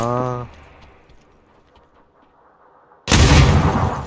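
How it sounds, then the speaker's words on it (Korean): Gunfire in the battle royale game PUBG (Battlegrounds): a sudden loud burst of shots breaks in after a near-quiet stretch and keeps going dense and close to the end, following a brief voice at the start. "뒤에서 쏜다"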